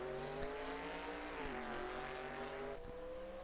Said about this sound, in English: Brian Walsh has got that awesome sound of the XD Falcon going.